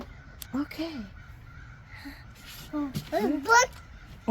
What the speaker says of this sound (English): Oh, those are birds.